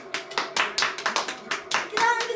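Hands clap in a lively, slightly uneven run of about ten sharp claps, close and fairly loud, with a brief voice sound near the end, as a home viewer applauds a player during a Fenerbahçe–Çaykur Rizespor football match.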